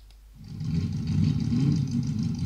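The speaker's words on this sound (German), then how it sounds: "Hier haben wir noch einen Motor." Engine running as a sound effect: a low, rumbling motor fades in within the first half second, then holds a steady, fairly loud idle-like drone for the remaining two seconds, alone without talk.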